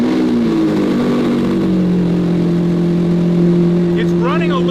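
V12 car engine started after a new battery, idling roughly and unevenly with a loud, steady low drone and sustained hum, close and continuous, with a faint chirping squeal near the end.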